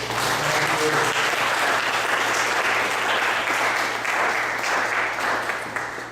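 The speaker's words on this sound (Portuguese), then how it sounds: "Vamos dar uma salva de palmas para esse Deus." A church audience applauds loudly and continuously for several seconds over a low steady hum, gradually easing off toward the end.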